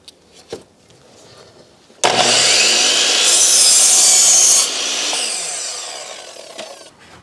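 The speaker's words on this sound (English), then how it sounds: "which will make it really easy once we get over to the table saw. Now let's go over there and cut all these at a 2 and 12 pitch or 10 degrees." A table saw cutting wooden shed rafters at a 10 degree angle, a loud whining rip through the wood lasting a few seconds, then the blade winding down after a brief clack beforehand.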